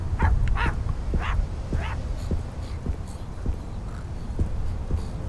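A dog in a horror video game barks three times early on, then softer whimpers and light rhythmic ticking over a steady low drone follow; no speech.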